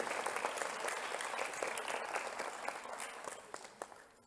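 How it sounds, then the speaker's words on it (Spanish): Audience applauding at a verse concert in Ontinyent, a dense spread of clapping that swells slightly and then fades toward the end, with a few sharper claps standing out. "Y un aplauso."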